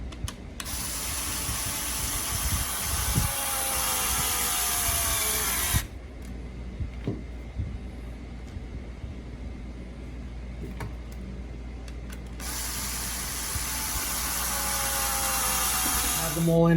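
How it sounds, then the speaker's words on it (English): A power drill whines loudly in two long bursts, straining under load as it drives tight screws into an RC truck's front bumper, separated by a quieter stretch of faint clicks and handling noise. "As you can hear, it's very tight. Even the drill struggles a little bit."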